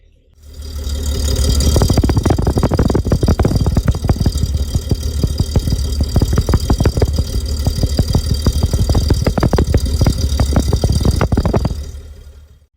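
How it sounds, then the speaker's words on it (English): A 1972 Datsun 240Z engine idles steadily close by, heard from the exhaust, a low rumbling exhaust note with a faint rattle, running continuously and loud throughout. "Now we'll move back to the exhaust, get the sound of it at idle as well."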